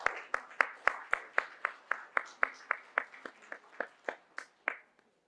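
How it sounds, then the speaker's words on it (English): Slow rhythmic clapping at a luncheon address, about twenty evenly spaced sharp claps that gradually weaken and fade out near the end. "Let's give them a big round of applause as they signify this moment."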